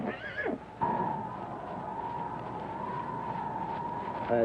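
A horse neighs in a 1961 film scene, a short whinny at the start followed by a long, steady neigh, then another brief whinny at the end, fairly close and clear with no talk.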